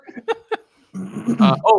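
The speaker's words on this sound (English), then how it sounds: "Yeah, that's my dog." A pet dog barks and grunts in a room in short bursts, with a voice and laughter breaking in over the later part.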